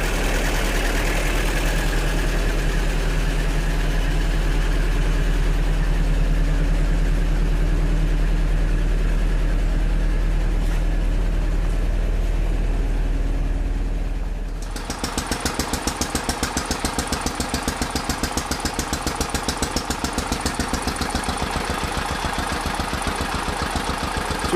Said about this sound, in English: This is the old Dennis fire engine running.